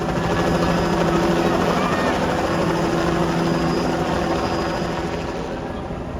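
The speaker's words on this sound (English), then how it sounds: "There goes Mike Roberts in the famous Airplanes and Coffee 2013 Yankee." A small Yankee propeller plane at a community aviation event in Mineral Wells, Texas drones loudly nearby, a steady buzzing engine hum that slowly fades as it moves away.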